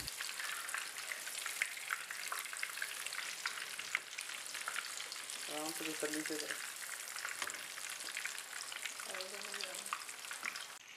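Stuffed chicken breast frying in a pan over a low-medium flame, a steady, bright sizzle running the whole time, with two brief tonal clinks of utensils partway through.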